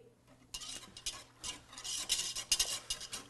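A spoon stirs homemade alcohol-based eggnog in a pot over slow heat, making soft scraping and clinking strokes against the metal. The strokes begin after a quiet moment and continue in an uneven rhythm, close and fairly quiet, with no talking.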